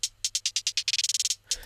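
Trap hi-hat roll in 32nd and 64th notes, pitched up and down: bright crisp ticks start evenly spaced, then tighten into a rapid stuttering burst, pause, and end with one lone hit. No voices.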